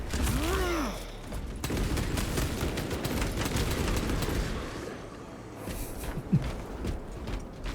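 Rapid exchange of video game gunfire, with dense volleys of shots running through most of the stretch, an early swooping whistle, a lull near the end and one sharp crack.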